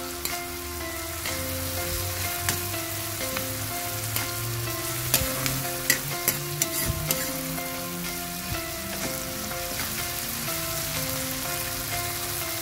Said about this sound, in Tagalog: Ayan, nagisa na natin.